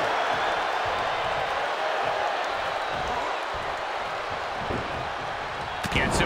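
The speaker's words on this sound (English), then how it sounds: "sound of this crowd is deafening" A deafening arena crowd cheering during the WWE Royal Rumble 2023 match fills the space as a dense, continuous roar, with commentators talking over it.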